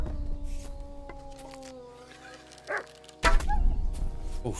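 Dog barking in the medieval video game Kingdom Come: Deliverance 2, a few sharp yelps and barks over a steady tonal game soundscape, with a louder burst near the end.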